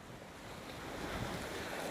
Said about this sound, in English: we can really see those waves behind you really churning and looking pretty rough there